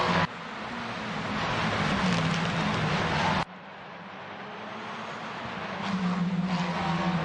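TCR race cars on the Cadwell circuit in the video game Assetto Corsa roar past at close range, their engines loud and continuous, with a sharp cut to another car's droning engine partway through.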